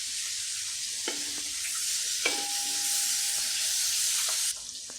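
Shallots sauté in hot oil in a pan for a Kerala-style pork curry, a steady close sizzle with occasional stirring scrapes and clinks, no voices.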